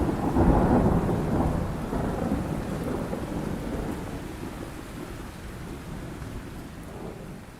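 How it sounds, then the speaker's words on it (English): Deep thunder rolls and rumbles steadily with rain hissing over it, loudest at the start and slowly easing, with no voices. "Thunder rumbles across the sky."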